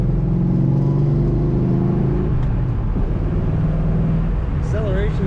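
A restored 1970 Chevrolet Nova two-door sedan with a steady engine note that drones from the cabin while driving, then eases off as someone talks over the quieter road rumble.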